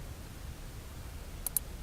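A computer mouse clicked twice in quick succession during SolidWorks sketch work, two soft, short ticks over a quiet room hiss.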